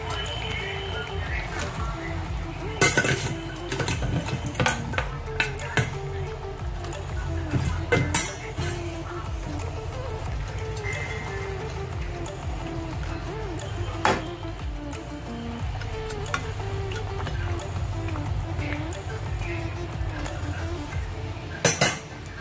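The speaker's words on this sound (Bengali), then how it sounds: "এবার এর মধ্যে মাছটা দিয়ে দেবো।" Pieces of fish go into a pan of curry, with metal utensils clinking and scraping against cookware in scattered sharp knocks over a low, steady kitchen background.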